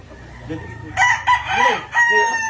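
A rooster crows nearby, a loud drawn-out call broken into bursts, with faint background murmur before it.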